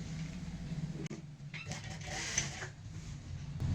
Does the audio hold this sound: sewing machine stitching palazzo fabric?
yes